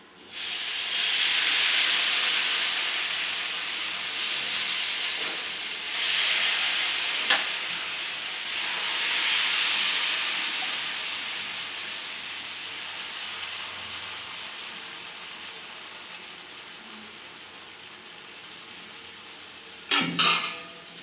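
Rava dosa batter hits a hot pan with a loud, steady sizzle and hiss that fades slowly over many seconds, with a brief clatter near the end.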